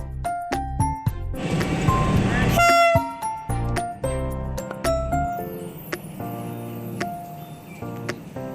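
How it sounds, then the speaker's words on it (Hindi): A Vande Bharat train horn sounds amid clattering rail noise and short toots, with loud rhythmic bangs and voices talking in the background. "भागो रे भाई, हॉर्न आ चुका है।"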